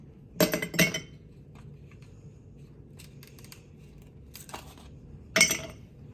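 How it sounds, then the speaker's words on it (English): Ice cubes for a homemade iced coffee clink into a glass in a few sharp, bright knocks, two close together at first, then a faint tap and another clear clink later over a quiet kitchen background. "All you need for this is just a couple of ice cubes"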